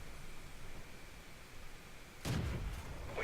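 A single loud, sharp cannon blast from a Cromwell tank in a tank video game cuts in abruptly over a quiet engine hum, then a brief rumbling tail fades out.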